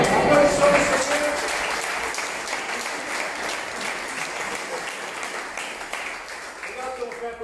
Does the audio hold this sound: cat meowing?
no